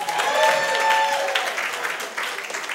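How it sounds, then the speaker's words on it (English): Audience applause rolls through the room at an Austin variety show, a full round of clapping with a few whoops that tapers off toward the end, no one speaking. "How about a round of applause for them?"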